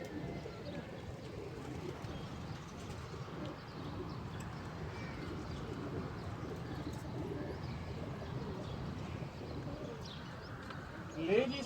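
Pigeon cooing in an outdoor pigeon coop after rain, soft low coos and occasional chirps under a steady background, with people talking throughout.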